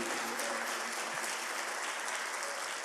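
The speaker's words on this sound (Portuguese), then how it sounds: "Você pode aplaudir a Ele por isso?" A church congregation applauds during a worship service, a dense, steady wash of clapping hands that holds evenly for about three seconds with no speech over it.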